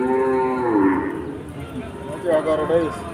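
Cattle moo close by, one long low call followed by a second shorter one, amid a noisy background of people at the Keshabpur cattle market in Jessore, Bangladesh.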